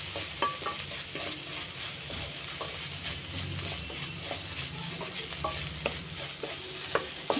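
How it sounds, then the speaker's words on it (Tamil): Vegetables and egg being stirred together in a frying pan, a soft steady sizzle with frequent light scrapes and taps of a spoon against the pan, fairly quiet and close. "இப்போ காயோடு சேர்ந்து முட்டையும் சேர்ந்து நல்லா இப்படி மிக்ஸ் பண்ணிக்கோங்க"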